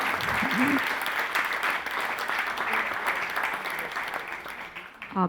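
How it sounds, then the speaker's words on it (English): Dense, sustained audience applause fills a hall at a Bharatanatyam dance and talk event, steady and loud throughout, with a brief voice at the start and again as the clapping fades at the end. "Can we have one more round of applause for Ms. Ipshita Chanda?"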